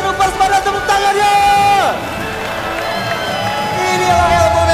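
Crowd at an ESL Snapdragon Mobile Challenge 2023 esports match cheers, whoops and claps loudly, with high shrieking voices swelling over a steady roar of the audience.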